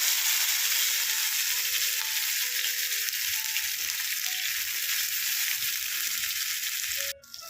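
Crushed shallots, green chilli, garlic and ginger sizzle loudly in hot oil with mustard and cumin seeds, a steady close frying hiss with faint stirring clinks, ending abruptly near the close.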